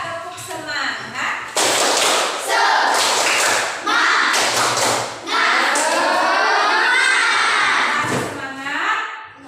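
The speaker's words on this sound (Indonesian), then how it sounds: "1, 2, 3, tepuk semangat" A class of children doing a rhythmic Indonesian spirit clap, bursts of patterned clapping and thumping close by, mixed with loud voices chanting and calling along.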